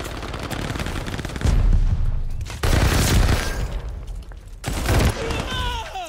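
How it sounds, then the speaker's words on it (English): Mortar barrage explosions in Call of Duty, with heavy booms and crackling blasts landing in repeated loud waves over a dense background of gunfire, close and overwhelming. "That motor barrage was up for like 5 minutes."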